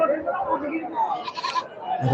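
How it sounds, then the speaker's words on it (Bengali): At a busy livestock market, large castrated goats bleat near the listener in brief wavering cries, mixed with a dense murmur of people talking. "বিশাল বড় বড় খাসি ছাগল"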